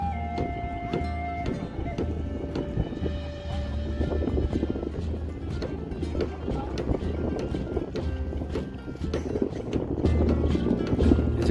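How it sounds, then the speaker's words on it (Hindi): Steamer ferry arriving on the Yamuna river near Prayagraj, a steady low engine rumble with wind noise and scattered clanks and knocks, people talking nearby over it. "स्टीमर आ रही है, इसमें बाइक लदा के हम लोग दूसरे पार जाएंगे"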